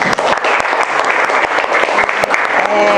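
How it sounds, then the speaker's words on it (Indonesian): A classroom group gives applause, loud and close, with dense clapping that runs steadily for a few seconds before thinning out near the end. "Berikan aplaus."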